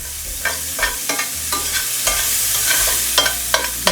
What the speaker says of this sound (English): now we're gonna go in with some onions right into our bacon fat